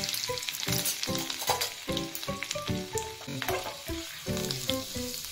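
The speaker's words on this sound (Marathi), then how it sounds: "यामध्येच आपल्याला लसूण पाकळ्या कट केलेल्या टाकून घ्यायच्या आहेत." Chopped garlic cloves and cumin seeds sizzle and crackle in hot oil, with steady frying hiss and clinking utensil stirring throughout.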